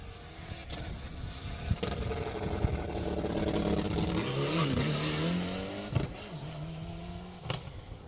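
Rally car on a narrow Jersey Rally stage approaches through the engine note of another car and rises to a loud pass near the middle, its pitch sweeping down as it goes by. Sharp gear-change pops and crackles mark its approach and exit.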